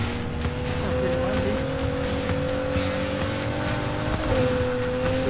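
A car drifts with the handbrake in Need for Speed Heat, its engine holding a steady loud drone and then dipping in pitch near the end over road and tyre noise.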